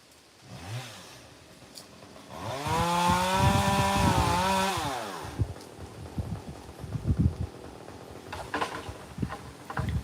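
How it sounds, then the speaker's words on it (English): A chainsaw revs up and whines loudly for a couple of seconds as it cuts bamboo, then drops back to idle, followed by scattered knocks and clatter. "sometimes you just need a chainsaw to do these kinds of jobs"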